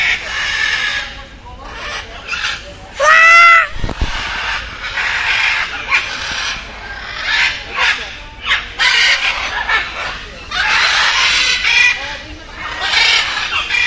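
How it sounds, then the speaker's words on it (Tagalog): Noisy birds at a bird sanctuary with peacocks, loud repeated calls and squawks in bursts, with a person talking in between. "Mangingay pala tong ibon na to."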